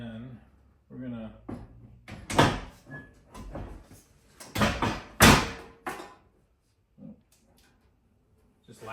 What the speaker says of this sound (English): just latch the door for now like we did on the back.